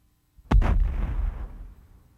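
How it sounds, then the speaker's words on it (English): A dust explosion inside an explosion chamber goes off with a fireball: a single sudden, deep, booming blast that rumbles and fades over about a second and a half. "Upon ignition, you have a primary explosion with a very dangerous fireball being released"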